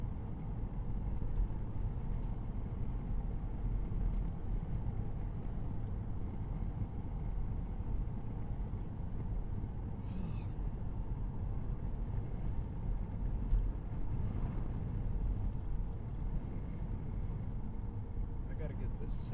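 A semi truck close behind a car on a road near Bluff Springs and Onion Creek, its steady low engine rumble and road noise running unbroken beneath a voice talking throughout.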